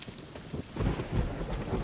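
Rain pours and thunder rumbles low in a video game, a steady hiss of rainfall under deep rolling booms that swell partway through, with no voices.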